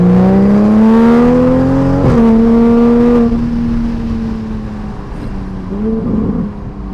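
Toyota Supra A90 2020 with the B58 engine revving from inside the cabin: a loud, smooth, rising engine drone that drops after a shift, then settles to a steady hum before another brief rise.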